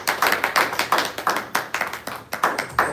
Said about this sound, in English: I was looking forward to getting the better clap than that